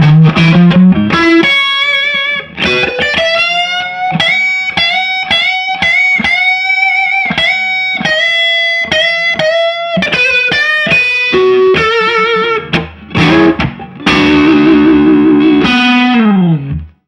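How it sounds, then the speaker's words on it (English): An electric guitar played through a Tube Screamer overdrive pedal with MF Guitars pickups rings out as a distorted melodic run of sustained notes and quick phrases, loud and close, ending on a held low note. "Back to the tube screamer."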